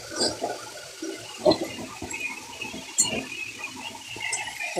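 Water is poured into a ground paste of white poppy seeds with chili and mustard, giving a steady splashing, gushing pour that runs for several seconds at close range with faint background noise.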